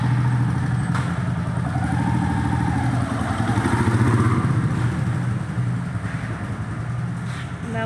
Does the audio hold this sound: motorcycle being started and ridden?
yes